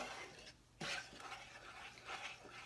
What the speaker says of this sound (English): I'm going to put this over a medium heat and just heat and stir.